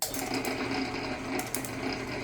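An Atlas metal shaper runs with its ram set to a very short stroke, giving a fast, steady mechanical chatter with quick repeating clicks, close and alone with no talk.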